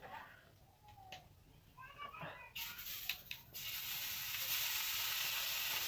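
A mixture roasting in butter in a pan, soft scattered sounds giving way to a loud, steady hissing sizzle that fills the second half, with someone speaking early on.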